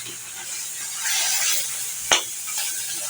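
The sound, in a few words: sautéing spices with salt in pan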